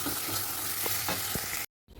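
Spices with turmeric, chili powder and green chili paste sizzle as they are stir-fried in a pan, a close, continuous frying hiss with soft scraping strokes, cutting off abruptly near the end.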